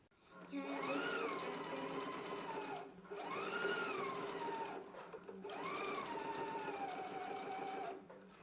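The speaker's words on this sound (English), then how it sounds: "we can go to the sewing machine now, and we just want to stitch right here in the seam" A sewing machine runs in three steady bursts of stitching in the ditch along a garment band seam, each with a rising and falling whine, separated by short pauses.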